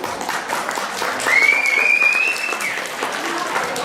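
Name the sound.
audience applause for archive volunteers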